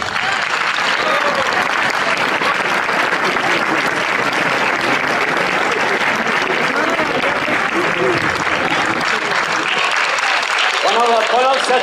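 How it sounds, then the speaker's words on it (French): Loud, sustained audience applause and ovation at a sports awards event, a dense wall of clapping running throughout with cheers and a voice rising near the end. "On les raccompagne au vestiaire sous vos applaudissements."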